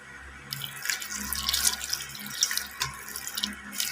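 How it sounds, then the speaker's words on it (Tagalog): Water being poured from a tap into a coin tumbling machine with coins, shampoo and toothpaste, a steady close splashing rush with gurgling spikes, running continuously after a short quiet start. "So, buhusan natin ng tubig."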